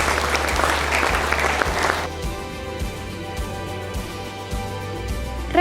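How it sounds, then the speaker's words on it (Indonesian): At a university graduation ceremony at Universitas PGRI Banyuwangi, the audience applauds the lecturers in a dense burst for about two seconds, then the clapping fades into quieter scattered claps beneath a sustained tonal background. "Mari kita beri tepuk tangan untuk Bapak Ibu dosen kita"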